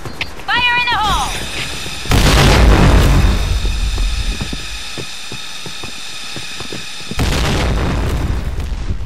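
A grenade detonates in the video game Point Blank, a loud booming blast that lands suddenly and rumbles on under steady game noise, with a second blast arriving near the end.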